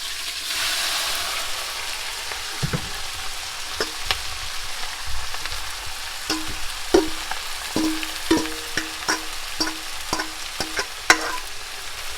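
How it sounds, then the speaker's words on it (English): Vegetables frying in a hot, well-oiled pot for rabbit sauce piquante, a steady close sizzle with a run of sharp clanks and scrapes as a spoon stirs them, the knocks coming faster toward the end. "So we're going to get these vegetables in here, and we're going to get them all stirred up."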